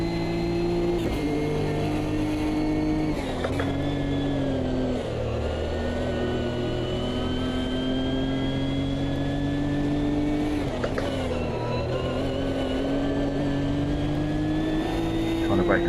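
A Nissan Nismo Cup race car engine at Brands Hatch in Automobilista 2 drones loudly and steadily, revving up through gears with sharp shifts and brief lifts.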